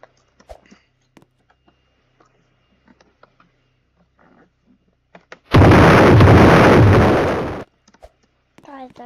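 A bomb goes off in the Roblox video game, a loud, dense blast roaring for about two seconds midway, with scattered soft clicks and brief talk around it.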